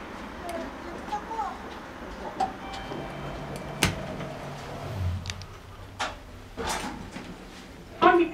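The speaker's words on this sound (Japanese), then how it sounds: "ドアが閉まります。" An Otis elevator door slides and thuds shut among soft clicks and ticks, with faint mechanical hum and a brief chime near the end, at JR Nishi-Kokura Station platforms 3 and 4.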